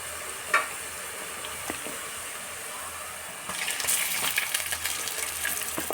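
Chicken and onions frying in a pan for a garlic chicken curry, a soft steady sizzle with occasional clinks of a utensil, the frying growing louder and busier toward the end.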